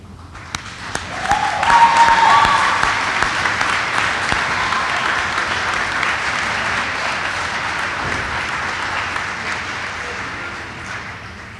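Audience at a winter commencement applauding graduates' families, a sustained, full round of clapping that swells early and then holds steady throughout, with faint voices mixed beneath.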